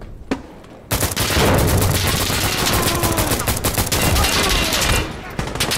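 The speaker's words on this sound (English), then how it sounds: "Stop shooting!" Heavy automatic gunfire in the video game Insurgency Sandstorm, loud rapid continuous bursts lasting several seconds after a short quiet start, with a single shot beforehand and fading near the end.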